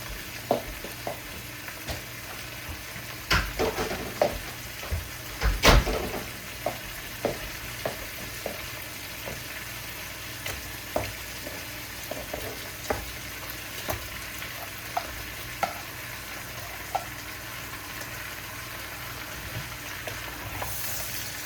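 Food fries and sizzles in a pan with a constant hiss, punctuated by frequent soft ticks and pops and a few louder utensil knocks early on, without talk.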